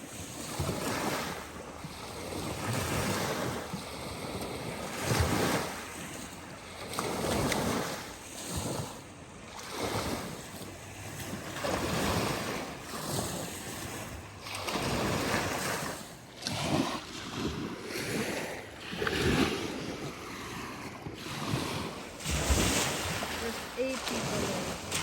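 Ocean waves wash onto a beach at sunset in a steady rolling surge, mixed with wind buffeting the microphone and a voice speaking now and then.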